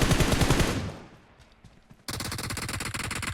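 Rapid automatic gunfire rattles in a PUBG Mobile match, heard loud and close in dense bursts, then a short quieter gap with fading echoes before another sustained burst of fire begins abruptly.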